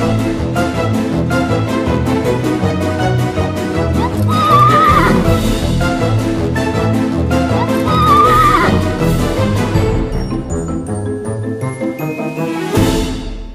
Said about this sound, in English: It's a wild horse! Run away!